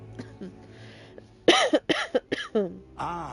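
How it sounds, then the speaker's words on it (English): A person coughs in a quick burst of several harsh, close coughs, after a quieter throat-clearing sound and a faint earlier murmur. "I'm about to cough again."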